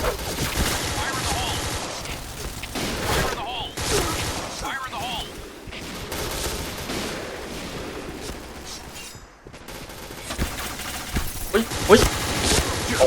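Bursts of rapid gunfire from the shooting game Point Blank crackle in dense, loud volleys with short pauses, mixed with game effects and a player's excited voice over the shots.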